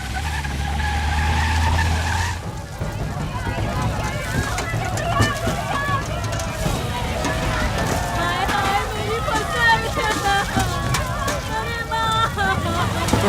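In a comedy film scene near a burning sugarcane field, a vehicle skids to a stop with a harsh, scraping screech. Busy, clattering commotion follows.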